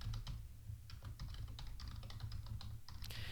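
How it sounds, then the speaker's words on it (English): An email address being typed on a computer keyboard: a quick, uneven run of light key clicks, close and fairly quiet over a low steady hum. "So I'm going to type that in."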